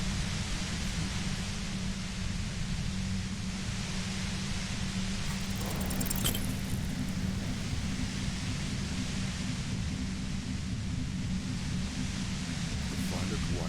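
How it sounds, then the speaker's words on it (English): Disco Elysium fills the space with dense, unbroken white-noise static that buzzes evenly throughout, with a brief brighter crackle near the middle. "The violet white noise becomes even more overwhelming"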